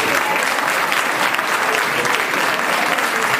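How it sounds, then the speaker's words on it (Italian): Loud, dense applause from a school audience for a group of students at an end-of-year show, steady and unbroken throughout with no voices over it. "E un fortissimo applauso a questi bravissimi ragazzi."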